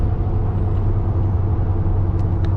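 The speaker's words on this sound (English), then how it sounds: "You guys can hear there's some, you know, whining noise or tire noise" Steady broadband road roar with a faint high whine from AMP Terrain Attack 33x12.50 off-road tires on a truck cruising downhill at about 50 mph, constant and close throughout.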